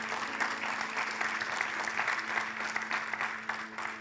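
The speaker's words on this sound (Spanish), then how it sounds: "Denle un fuerte aplauso al Señor" A church congregation claps loudly for the Lord during a worship service, sustained dense applause that fills the room at an even level, with a faint steady hum underneath.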